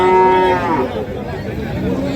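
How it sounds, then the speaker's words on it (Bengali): A red Sahiwal bull at a rural cattle market gives a loud, close, drawn-out moo that bends downward, followed by a hum of market background. "এটা হচ্ছে লাল লাল শাহিওয়াল"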